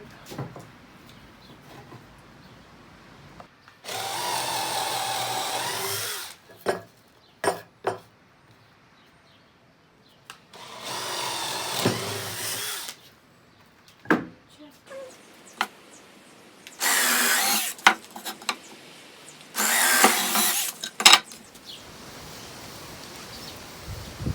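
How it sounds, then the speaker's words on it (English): Several long bursts of loud, broadband power-drill whine as a 5/8 inch Forstner bit bores through stacked boards, each lasting a couple of seconds, separated by quiet gaps and scattered clicks and knocks. "I'm going to drill a 5/8 inch hole through all these boards with a Forstner bit"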